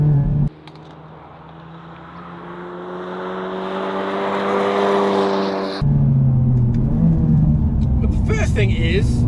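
A Hyundai i30 N with a manual gearbox is driven hard on a track at the 2023 Hyundai N Festival, its engine droning and climbing steadily in pitch under acceleration, then shifting and pulling again, loud and close inside the cabin.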